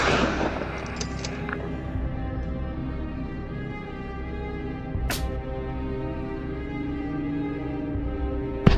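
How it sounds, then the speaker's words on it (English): Sharp gunshots ring out during a wild boar hunt on Moroccan farmland, one loud blast opening with a long fading echo, another crack a few seconds later and a final report at the end, over a low outdoor rumble. "The sound of gunshots echoed along with the sound of hurried footsteps"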